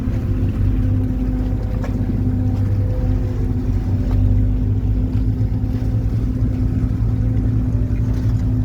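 A very large ship pulls in to dock against rubber fenders in Croatia, its engines giving a steady, deep, droning hum throughout with faint wind noise and no talking.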